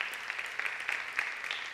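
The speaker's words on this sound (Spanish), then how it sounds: "Dele un aplauso al Rey bendito." Faint, brief applause from a congregation at a church retreat: a soft, continuous patter of clapping heard from a distance.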